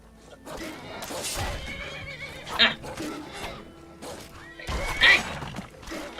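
A horse in the video game Skyrim neighs twice in shrill, rising whinnies over game ambience and hoof sounds, while a person talks between the calls.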